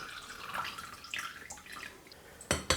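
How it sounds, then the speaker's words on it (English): Whey dripping from draining homemade curd cheese, a scatter of light wet drips and trickles, then two sharper louder splashes near the end, close and fairly quiet. "So yeah, all the liquids keep dripping"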